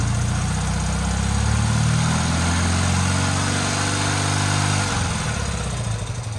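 An old engine that had sat unused for over twenty years revs up off idle and holds at a steady high speed, loud and close, then drops back toward idle near the end.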